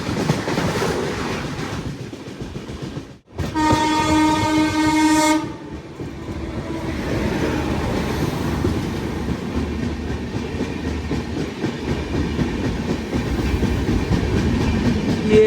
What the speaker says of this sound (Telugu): Kanyakumari, Dibrugarh Vivek express first crossing.